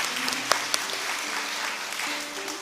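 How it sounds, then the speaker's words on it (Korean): A church congregation at a Sunday worship service claps together after the pastor announces a baby's arrival. The applause is steady and fairly close, and it carries on for the whole stretch with no talking over it. "박수."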